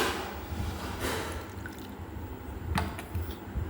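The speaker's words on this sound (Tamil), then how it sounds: "இதில் தண்ணி இப்படி ஊற்றலாம்." Water poured by hand from the lid of a cool clay pot, a soft liquid splash and trickle close by with a few small drips, running steadily without any voices.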